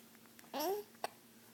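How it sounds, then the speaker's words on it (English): A baby gives a single sharp hiccup, a short voiced squeak with a rising pitch, followed by a tiny second catch, close and soft in a quiet room. "Oh, hiccups."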